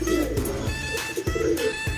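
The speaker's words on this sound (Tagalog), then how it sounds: "Yan po yung mga ibon." Soft, repeated cooing of doves or pigeons runs through the whole stretch, close by, with faint chirps in the background.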